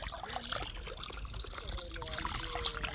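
Splashing, gurgling river water flowing close by, busy and uneven, with faint background noise mixed in.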